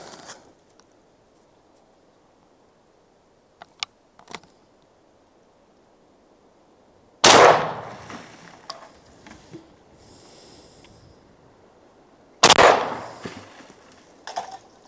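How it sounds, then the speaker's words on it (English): Two loud rifle shots from an early Yugoslavian SKS M59, several seconds apart, each a sharp crack with a rolling outdoor echo, between quieter handling clicks and soft ambient noise. "Let's go ahead and take some shots."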